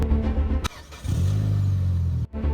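A rebuilt, previously wrecked Mitsubishi Lancer Evo 8 engine cranks and catches, dropping out briefly before settling into a steady, loud idle hum close by, then a quick cut and restart.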